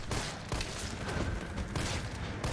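Dense bursts of gunfire from the 2020 Resident Evil 3 remake rattle almost continuously, loud and close, with rapid overlapping shots and no talking.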